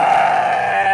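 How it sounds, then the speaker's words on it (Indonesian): A brown goat lets out one loud, close, sustained bleat with a strained, nasal, wavering tone that fills the whole moment. "Suaranya aja mbek-mbek ya. Iya. Ya kambing guys"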